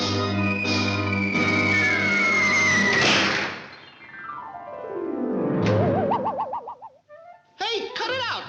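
A cartoon pigeon coos in a classic 1942 animated short, warbling bubbly calls over orchestral music that slides downward, followed by a few quick burbling bursts near the end.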